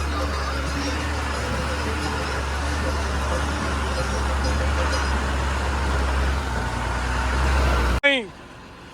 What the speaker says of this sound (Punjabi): ਗੱਡੀ ਜਾਂਦੀ ਦੂਜੇ ਗੇਅਰ 'ਚ